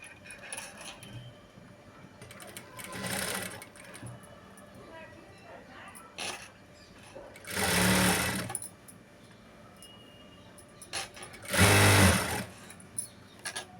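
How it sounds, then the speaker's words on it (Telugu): Sewing machine with a normal presser foot stitching thin piping onto a blouse, running in three loud bursts of a couple of seconds each, with quiet handling and faint talk between them. "నార్మల్ పాదంతో వేస్తున్నాను పైపింగ్ అనేది"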